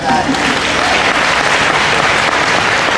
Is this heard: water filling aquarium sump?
no